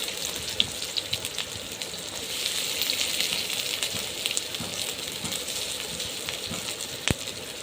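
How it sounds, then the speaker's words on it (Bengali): Onion and chilies frying in hot oil for a Bengali fish bhuna, a steady close sizzle with crackles and occasional sharp pops, no voices. "প্রথমে দিয়ে দিলাম তেল, এরপরে দিয়ে দিব পেঁয়াজ মরিচ।"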